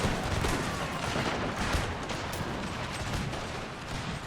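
Massed musket volleys and cannon fire rage through an Empire: Total War battle, a dense, continuous crackle of gunfire with deep rumbling booms underneath, steady and loud throughout with no pauses.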